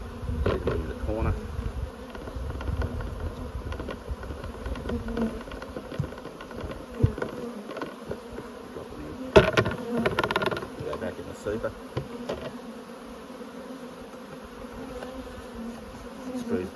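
Honey bees buzz around an opened hive, around a thousand of them, a steady close hum with louder passes as individual bees fly near, alongside some handling noise.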